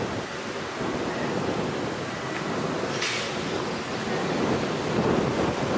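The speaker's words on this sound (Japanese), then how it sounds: "雨が降ってきました。" Rain falls outdoors at a tennis practice as a steady, broadband rushing hiss with a low rumble underneath and one brief sharp tap midway.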